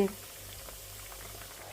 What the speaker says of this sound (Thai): เขาก็เอามาทอดนะพี่น้องทอดให้มันเหลือง